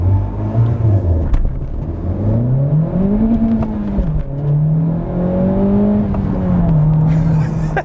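A 2017 Honda Civic Type R pulls hard at full throttle, its engine note climbing steadily through the gears in a loud, continuous rising drone with brief dips at shifts, heard from inside the cabin.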